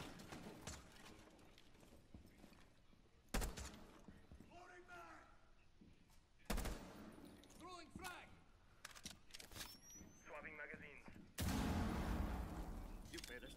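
Bursts of gunfire from a video game crack out several times amid ongoing game noise, with a longer, louder volley at the end, while people talk over it.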